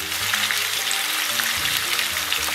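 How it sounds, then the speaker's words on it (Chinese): Oxtail stir-frying with soybean paste and fermented tofu in a hot wok, a steady close sizzle running throughout with faint scraping stirs, no voices. "接着给它炒香。"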